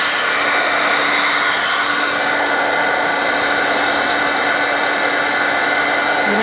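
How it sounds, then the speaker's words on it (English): A craft embossing heat tool blows continuously as it heats up, a loud, close, steady whirring rush like a hair dryer that runs unbroken throughout. "I'm going to heat up my heat tool."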